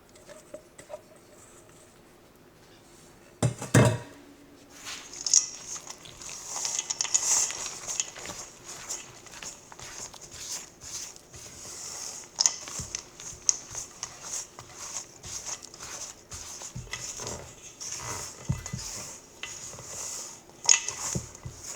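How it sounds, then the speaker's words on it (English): Butter is beaten in a jar for chocolate chip cookie dough with a utensil, giving irregular knocking, scraping and clinking against the glass. Quiet at first, it then turns busy and rhythmic, with no one speaking. "So we're gonna beat the butter."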